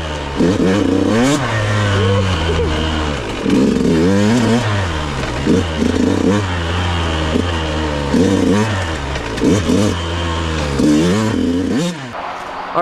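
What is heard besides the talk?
dirt bike engine revving on race fuel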